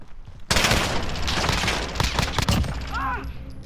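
Rapid sustained bursts of P90 gunfire in a first-person shooter game, a sudden loud dense stream of shots that runs for about three seconds before tapering, with a brief chirping effect near the end.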